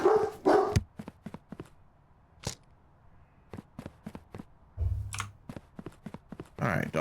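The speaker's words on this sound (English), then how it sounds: "All right, dog's going crazy." A dog barks in short bursts nearby indoors, with gaps filled by sharp keyboard and mouse clicks and someone speaking at times.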